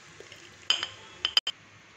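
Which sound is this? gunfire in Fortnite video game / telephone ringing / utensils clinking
utensils clinking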